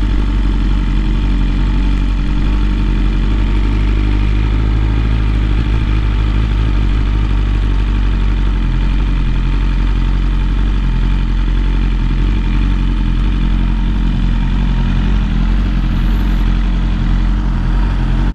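A motorcycle engine idles steadily and loudly up close, a constant low throbbing rumble with slight mechanical clatter running unchanged throughout.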